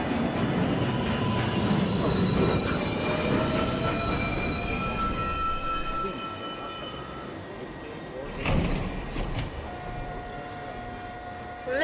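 A downtown local 1 train of the NYC subway rolls into Lincoln Center station, a loud rumble with a high wheel squeal that eases as it slows, while recorded platform announcements play over it.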